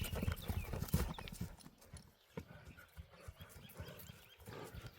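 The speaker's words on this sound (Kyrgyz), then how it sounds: "Дал ошол аркага жетелей турган ат экен." A four-year-old horse is led across ground at a horse market, its hooves clip-clopping in irregular close steps, loudest at the start, then thinning into scattered footfalls.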